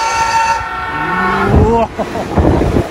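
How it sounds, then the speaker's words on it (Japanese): A fast train passes through Shin-Kawasaki station while its horn blares in long, loud, steady tones, followed by a rising rush and rumble close by on the platform. "この新川崎駅を通過する列車というのはかなりスピードが速いんですが、それをホームから見るとどうなるか"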